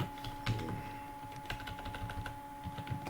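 Typing on a computer keyboard, close and fairly quiet, with irregular bursts of key taps and a faint steady hum underneath, no talking.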